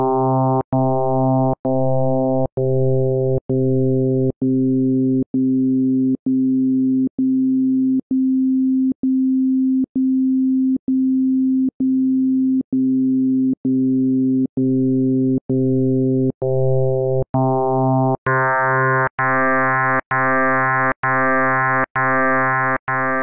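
An FM synthesizer plays a steady pitched tone struck over and over in an even pulse, its brightness shifting as the modulator level rises and falls: thinner in the middle, much brighter and buzzier near the end. Loud and clean, no voice.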